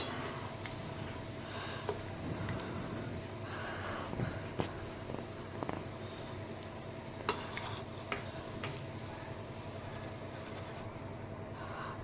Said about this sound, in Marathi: थोड्या डार्क रंगावर आपल्याला ही शंकरपाळी तळायची आहे